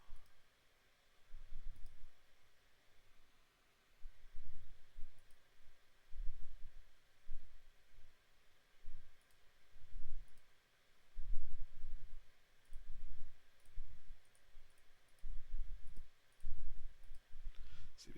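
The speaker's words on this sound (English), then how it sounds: "I think I'm going to shuffle." A Magic: The Gathering card deck is shuffled close up, making repeated soft, muffled thumps and light clicks in steady bursts. No voices are heard.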